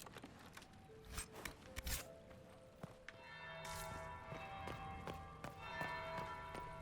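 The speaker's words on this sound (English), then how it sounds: "That's the bell." A bell rings at a masked ball inside the video game Dragon Age: Inquisition, heard as clear repeated tolls over a busy background of footsteps and clatter, moderately loud with no talk.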